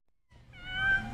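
A cat meows once after a moment of silence, one drawn-out, clear, fairly loud cry recorded close by among cats brought from a trailer crash in Central Oregon.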